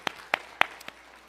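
A few sharp, separate handclaps in a church congregation, four quick claps spaced about a quarter second apart, then quiet.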